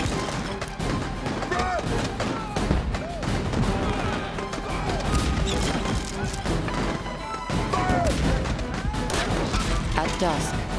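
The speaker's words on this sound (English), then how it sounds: "The church holds out against the cannon fire for 2 hours." Repeated cannon fire pounds a solid masonry church as cannonballs are fired one after the other, a loud, continuous barrage of booms and crashing impacts with a busy background din.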